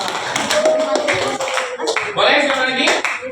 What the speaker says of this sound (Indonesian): beri tepuk tangan untuk Anissa dan kawan-kawan